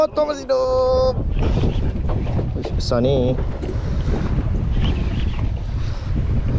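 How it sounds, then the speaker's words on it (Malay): A boat motor drones steadily beneath wind buffeting the microphone at sea while fishing, as people talk and exclaim over it. "Motor masih hidup."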